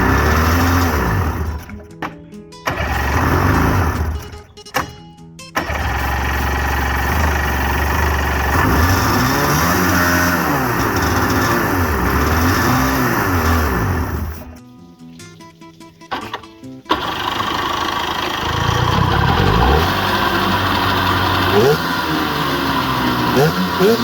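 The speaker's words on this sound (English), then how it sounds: "The backfiring on the carbs was because they were running super lean." A homemade jet engine built around carburetors starts up loud and close, its roar rising and falling in surges with popping backfires from lean-running carbs, broken by a couple of abrupt gaps and a longer pause before it picks up again.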